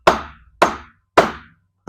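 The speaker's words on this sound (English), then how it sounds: "I smacked it with a hammer just to get it all the way down" A hammer strikes a Watts link bushing into place on a 1981 Mazda RX7 FB: three sharp metallic whacks spaced about half a second apart, each ringing briefly, then the start of a fourth, close and loud.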